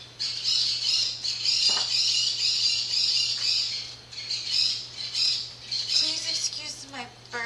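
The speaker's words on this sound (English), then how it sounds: "Please excuse my birds." Pet birds squawking loudly and repeatedly indoors, shrill calls running almost continuously over a low steady hum, with brief chirpy notes near the end.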